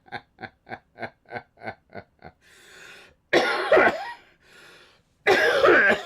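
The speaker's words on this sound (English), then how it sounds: "Look, you made me cough." A person coughs in a quick series of short, close hacks, followed by a few louder, harsher coughing fits with breathy pauses between them.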